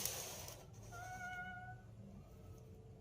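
A voice imitating a cat, a thin drawn-out meow of a couple of seconds at a door over a constant low background rumble, faint to moderate and without speech.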